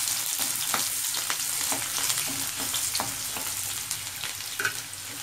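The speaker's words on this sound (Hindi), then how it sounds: "तेल गर्म होने के बाद ये देखिए, हम इसमें डालेंगे प्याज।" Onions frying in hot oil in a kadhai while Hyderabadi bheja fry is being cooked, giving a steady, close, loud sizzle with crackling pops throughout and no talking.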